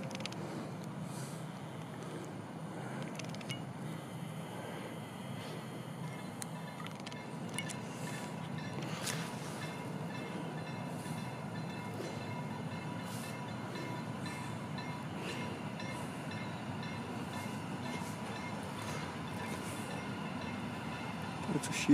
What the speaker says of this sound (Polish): Pociąg z Tłuszcza.